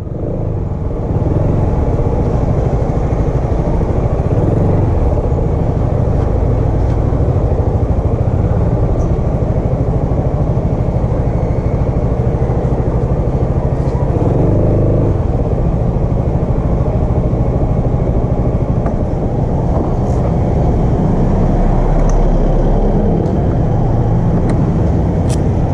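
Motorcycles on a road at a roadside breakfast stop on the Marilaque route, their engines producing a loud, continuous rumble with swelling and fading passes amid constant traffic noise.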